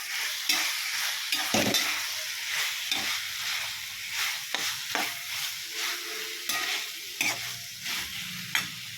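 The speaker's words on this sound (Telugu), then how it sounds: "ఆనియన్ కూడా బాగా ఇందులో మగ్గబెడదాం." Onion pieces sautéing in a pan for meal maker curry, soft continuous sizzle under regular spoon scrapes and stirring strokes, close by.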